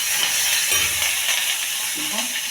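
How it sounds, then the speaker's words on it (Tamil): Mustard seeds and curry leaves sizzle and crackle in hot oil, a dense, steady frying hiss that fills the whole stretch with a few stirring scrapes underneath. "கடுகு பொரிஞ்சிருச்சு, கருவேப்பிலை."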